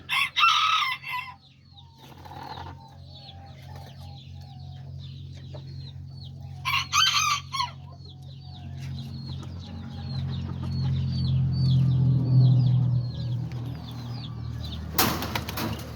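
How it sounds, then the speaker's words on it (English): Chickens cluck in rapid bursts while a rooster crows loudly twice, near and alone, with steady farmyard ambience and a low hum beneath. "this is my smallest rooster that I got"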